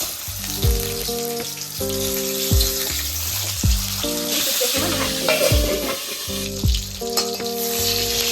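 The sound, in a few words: fish head frying in hot mustard oil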